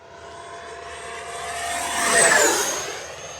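A small FMS Viper V2 70mm electric ducted fan RC jet at 40% throttle with full landing flaps whines louder as it sweeps past close by, peaking then easing away, with a steady rushing roar beneath.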